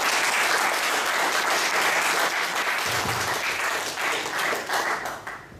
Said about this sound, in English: Please put a round of applause.